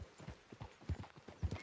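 Horse hooves clip-clopping at a steady walking gait while riding in Red Dead Redemption 2, a soft, evenly spaced series of thuds heard alone and fairly quiet.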